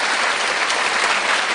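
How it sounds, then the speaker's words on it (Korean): Steady, dense applause from a lecture audience fills the whole short stretch, even and fairly loud with no voices over it. "박수 부탁드립니다."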